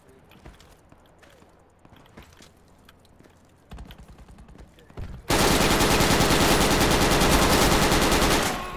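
Sustained automatic gunfire in the military shooter Project Reality, loud dense bursts firing continuously after quieter scattered shots and faint background activity.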